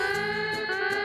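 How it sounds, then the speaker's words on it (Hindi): A steady electronic siren drones on at an even pitch, loud and close, with no talk over it. "तभी तो ये सायरन बज गया है"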